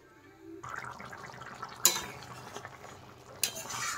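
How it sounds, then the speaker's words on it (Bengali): A utensil stirs fried spice masala through roasting cauliflower in a pan, with soft scraping and clinks of metal against the pan and a couple of sharper knocks standing out, no talking. "মশলাটা দিয়ে এখন একটু নেড়ে দিচ্ছি।"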